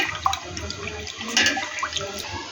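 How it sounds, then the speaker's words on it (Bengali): Condensed milk poured into a cooking pot with bay leaves gives a continuous close wash of liquid splashing and gurgling that lasts a couple of seconds, with no talking. "কোটা রাখা দুধটি আমরা ঢেলে নিচ্ছি"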